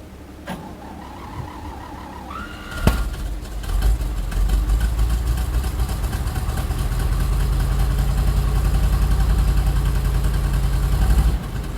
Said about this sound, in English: Let's see if this thing will fire up so I can get a little fuel.